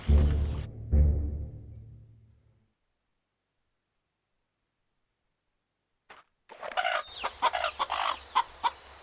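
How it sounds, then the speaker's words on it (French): Chickens cluck loudly and close in the video game Fable Anniversary: a burst of clucking fades out, then silence, then a busier run of sharp clucks and squawks. "Vous chassez les poulets,"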